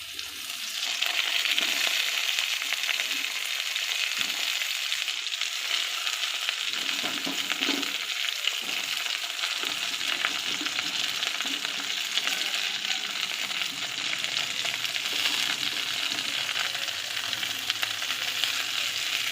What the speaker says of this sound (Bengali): আলুটাকে আলাদা করে একটু ভেজে নেব তাহলে তরকারিটা একটু ভালো লাগবে খেতে